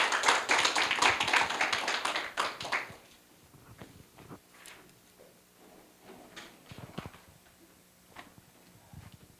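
An audience at a university workshop claps to welcome a professor, with a loud burst of applause for about three seconds that then dies away into scattered taps and room noise.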